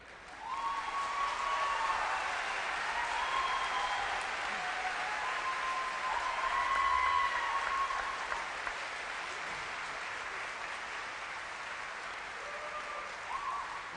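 Sustained applause from a graduation audience at Skyline High School's 2017 ceremony, a dense steady wash of clapping that swells midway and carries on for the whole stretch without pause, with scattered crowd noise underneath.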